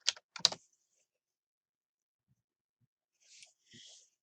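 A few quick clicks of typing on a computer keyboard, close and faint, followed by a long silence and a couple of soft, brief noises near the end.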